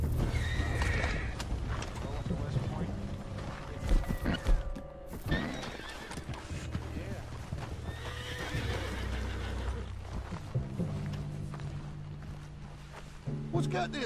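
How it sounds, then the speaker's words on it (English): A horse in Red Dead Redemption 2 whinnies and snorts with clip-clopping hooves, while someone talks over it and game music and ambience play underneath. "What's got this horse spook"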